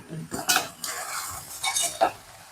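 Avial with yogurt is stirred in a pot, giving close scraping and clinking of a spoon against the metal in a few uneven strokes, with faint sizzling beneath.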